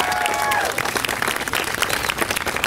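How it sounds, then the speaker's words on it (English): Dense applause from an audience honoring a school teacher at an awards ceremony, steady crackling claps filling the whole stretch with a faint voice-like tone early on. "Let's give her another round of applause."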